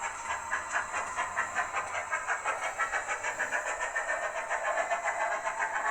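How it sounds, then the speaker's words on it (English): A model steam locomotive under ABC constant braking control pulls away with a steady, rhythmic chuffing hiss that pulses evenly and rapidly. It sounds close and moderately loud, with faint rail clatter beneath and no speech. "the loco now knows that it can continue on"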